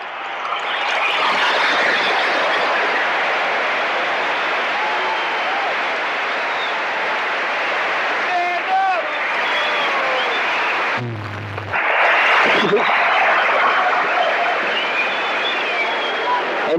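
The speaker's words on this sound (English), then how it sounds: "And listen to the crowd." Loud basketball crowd at the 1981 Connecticut Mutual Classic, University of Connecticut Huskies game, roaring and applauding steadily, with a brief dip before the cheering swells again.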